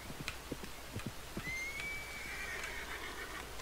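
Horses whinny in a Red Dead Redemption Online game scene, with a long drawn-out neigh rising over steady clip-clopping hooves and ambient outdoor noise, moderately close.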